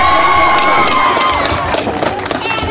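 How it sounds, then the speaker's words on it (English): Loud crowd at an amateur MMA fight night in Haysi, cheering, whooping and shouting continuously and close up. "And another round of applause for the cannibal, Hannah Elswick."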